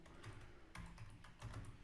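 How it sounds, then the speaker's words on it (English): Computer keyboard keys pressed a few times in a quiet room, with soft, close clicks spaced out in short bursts while selecting an option in a code editor. "I will just type on tab key on my keyboard and it will select that option"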